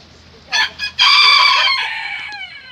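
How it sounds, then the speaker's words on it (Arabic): A farmyard rooster gives two short clucks and then a loud, drawn-out crow lasting well over a second, close by and clear against a quiet background, among hens on a farm. "ديك دجاجة."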